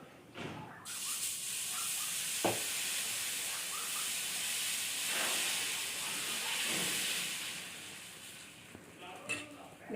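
A steady, loud hiss of sprouted-grain dosa batter sizzling on a hot griddle runs throughout, with a few faint clicks and brief voices in the background.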